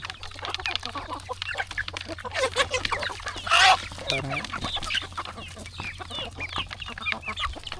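Native country chickens and roosters on a farm cluck in a busy, overlapping chorus, with one louder squawk standing out partway through and a steady low hum underneath.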